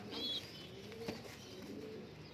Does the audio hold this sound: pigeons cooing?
yes